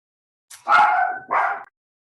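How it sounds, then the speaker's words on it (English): A dog barks twice close by, a short yip followed by two loud, sustained barks, heard alone in a quiet indoor room. "My dog just started barking."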